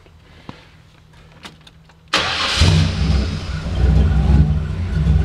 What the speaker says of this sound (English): Let's go ahead and fire the car up here.